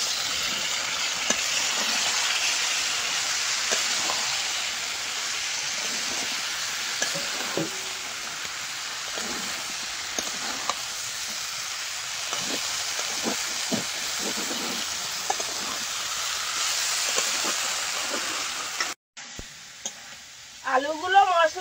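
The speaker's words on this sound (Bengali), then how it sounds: "আলুগুলো মশলার সাথে ভালো করে কষিয়ে নেবো।" Potatoes for a vegetarian aloo dum sizzle steadily in a pan with spice paste, with frequent scraping stirs throughout; the frying noise cuts out near the end, followed by brief clattering and a faint voice.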